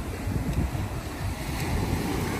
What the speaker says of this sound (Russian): Сегодня ветер сильный, на море волна большая